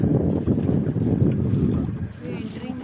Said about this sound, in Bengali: এই যে ব্যাম্বু বোট।